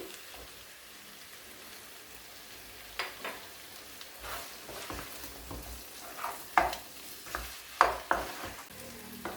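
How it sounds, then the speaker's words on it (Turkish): Green beans and potatoes hiss softly while frying in a pan, with scattered scrapes and taps of a spoon stirring them, growing sharper and more frequent toward the end. "Tuzunu ekledikten sonra 2-3 dakika daha Karıştırarak kavurmaya devam ettim."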